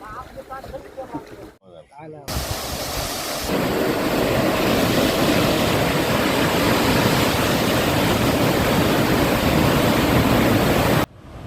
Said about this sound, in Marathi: आज जे पाणी सोडले जात आहे